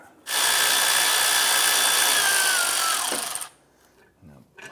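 A power tool whirs loudly and steadily for about three seconds as it spins a bolt out during alternator replacement on a 2005-2007 Ford Five Hundred, then winds down, followed by faint clicks.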